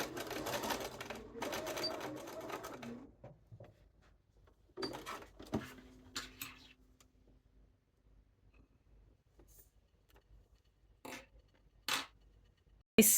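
A sewing machine stitches French seams on a duster coat, running in a steady buzz for about three seconds, then falling to short bursts and clicks of fabric handling, with quiet gaps between.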